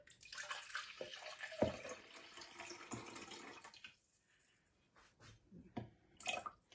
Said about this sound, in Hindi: इसको सबसे पहले हम इसमें जग में इसमें पानी डाल लेते हैं